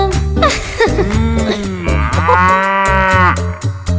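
A cow moos loudly and close, in one long, drawn-out call whose pitch rises and falls over several seconds, with no talk.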